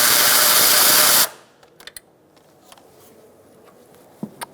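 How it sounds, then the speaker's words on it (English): A power tool whirs loudly and steadily for about a second while removing 10 mm side bolts on a 2012-2017 Hyundai Accent during a transmission mount replacement, then cuts off, leaving faint clicks and small metallic taps. "Using a 10mm, we're going to get these two side bolts out too."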